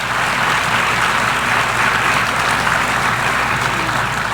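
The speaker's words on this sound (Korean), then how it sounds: "사람들은 계속 박수를 쳤습니다." Loud, sustained applause fills the UN General Assembly hall during a presidential speech, a dense continuous roar of many hands clapping.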